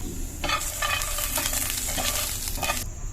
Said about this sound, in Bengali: এবার সব কিছু দিয়ে খুব ভালো করে ভেজে নেবো